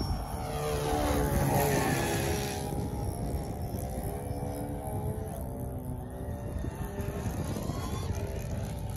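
A Sig Four Star 40 sport low-wing model airplane's four-stroke engine drones steadily overhead, its pitch rising and falling as it passes and maneuvers, loud and continuous with no talking.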